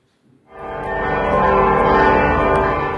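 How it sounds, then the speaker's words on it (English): Large church bells ring out at Holy Name Cathedral in Chicago, swelling in after a quiet start into a loud, sustained peal with rich lingering overtones. "Bells heralded the news at Holy Name Cathedral in Chicago"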